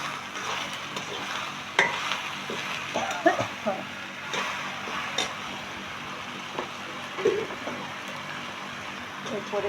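Sponge gourd (dhundul) stir-fries in a pan, with a continuous sizzle and frequent scraping, clinking stirs of a spatula against the metal, close and fairly quiet.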